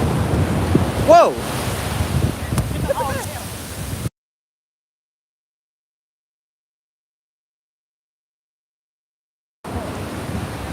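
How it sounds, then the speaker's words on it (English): Wind buffets the microphone over roaring surf at Montara State Beach, California, broken by a stretch of silence before the rush of waves returns. "that ocean wave was humongous"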